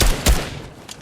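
A heavy assault rifle fires in Fortnite with two loud, close bursts of booming shots in quick succession, the second followed by a fading tail and a faint later crack.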